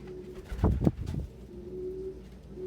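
Pigeons coo softly a few times close by, a low throaty burble over a quiet steady background hum.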